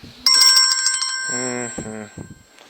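A mobile phone rings during a class, a bright bell-like ringtone followed by a lower electronic melodic tone, loud and close, then cut off.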